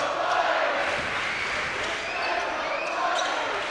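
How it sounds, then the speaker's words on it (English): Loud, steady crowd roar fills a basketball arena during a TBT 2019 game between Red Scare and Mid-American Unity, with faint shoe squeaks and the thump of a bouncing ball under the constant noise. "Listen to this crowd."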